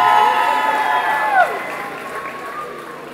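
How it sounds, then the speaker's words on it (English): Audience applause rolls through a rodeo arena in a steady wash of clapping and crowd noise, with a few whoops and voices rising over it before it slowly tapers. "y'all give her another round of applause"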